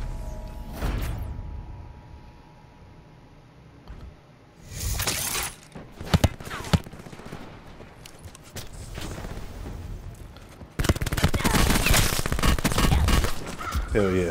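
Gunshots in a shooting video game, with loud bursts of fire and sharp cracks in uneven clusters, quieter gaps between them, and a long heavy barrage at the end.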